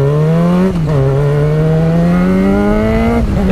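A Yamaha FZ6R motorcycle engine running a new fuel map revs loud and close. Its pitch climbs in sustained pulls with two brief dips between them, and no one speaks.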